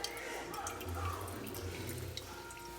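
Coffee trickles and drips from a Ninja Luxe Cafe machine into an 8-ounce cup, a faint steady liquid patter under a low machine hum.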